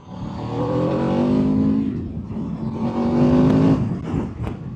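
Aprilia RSV4 1100 Factory sport motorcycle engine under riding load, a loud, steady roar with rising revs that swell twice and ease off, close and continuous with no talk over it.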